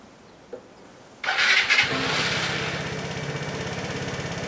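A Vespa scooter fitted with a gel battery cranks briefly and catches, then settles into a steady, close idle with a rapid even putter that carries on alone to the end.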